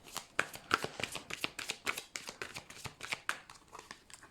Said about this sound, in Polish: a ja już losuję dla Was karty z odpowiedziami od naszych aniołków kochanych